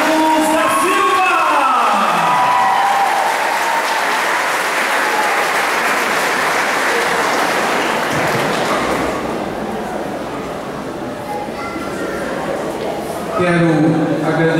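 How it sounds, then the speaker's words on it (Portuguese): Loud, sustained applause from a large crowd at a mayor's inauguration, with scattered whoops and a voice over a loudspeaker near the start and end. "Recebam de pé e aplaudindo o nosso prefeito, Arthur Carlos da Silva."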